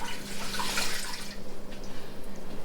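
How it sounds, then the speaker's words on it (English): Cold tap water runs steadily from a faucet spigot in an Arizona kitchen, a continuous close hiss and splash that swells briefly then settles into a softer steady flow, with no talking. "And it came out of the cold spigot."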